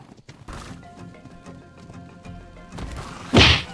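Horse sounds in the ARK Survival Evolved video game, with hoof clip-clops and thumping strikes through busy game noise, ending in a loud, brief whinny-like burst.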